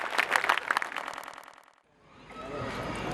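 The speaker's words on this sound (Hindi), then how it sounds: "जोरदार ताली से बुलाएं, आ रहे हैं डॉक्टर विष्णु सक्सेना" Enthusiastic audience applause welcoming a poet to the stage at a Hindi kavi sammelan, dense clapping that dies away before a second wave of claps and noise rises again.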